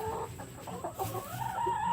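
A rooster clucks in short, close bursts inside a chicken coop, with other fowl murmuring softly in the background.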